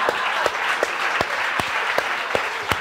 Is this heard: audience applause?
yes